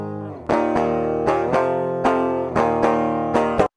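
Clean direct electric guitar strums a few sustained chords in a steady rhythm, bright and in tune, ending abruptly.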